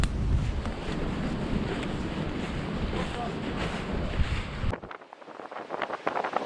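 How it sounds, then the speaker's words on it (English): Strong storm wind at a woodland camp in winter, loud buffeting gusts roaring through trees and battering the microphone, then dropping abruptly to quieter gusty rustling near the end. "Listen, then the wind will die down."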